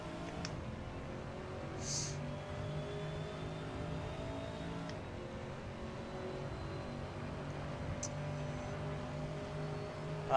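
An LMP3 race car engine in Assetto Corsa droning steadily with a sustained tonal whine and faint shifting pitch, fairly quiet, with a few brief clicks and chirps along the way.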